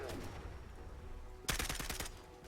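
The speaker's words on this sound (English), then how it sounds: "It's burst fire in VATS though, which means it's way more powerful than I thought" Burst-fire gunshots from an M16 rifle in Fallout 4, a sharp cluster of rapid loud cracks erupting about two-thirds through after a quieter stretch of game ambience, then trailing off.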